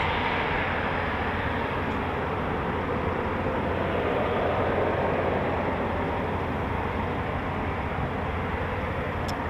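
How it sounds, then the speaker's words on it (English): Eurofighter Typhoon jet taxiing out for departure at an RAF station, a steady, broad engine roar heard from a moderate distance that stays constant throughout. "another Typhoon taxiing out for departure"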